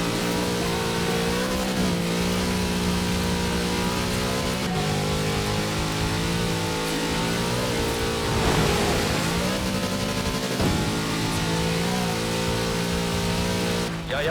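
A big Chevrolet engine revs hard in Forza Horizon 4, a loud, steady engine drone rising and falling through gear changes, with a sharp surge midway and no talk over it.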